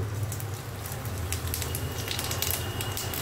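Cumin seeds sizzling and crackling in hot mustard oil in a wok-style pan, a steady dense hiss with fine spattering pops throughout, close and alone with no talk.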